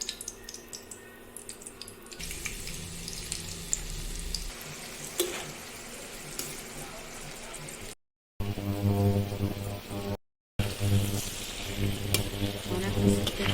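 Food sizzles and crackles in hot ghee and white oil at a home picnic, a steady frying hiss with stirring clatter and brief breaks, fairly quiet overall.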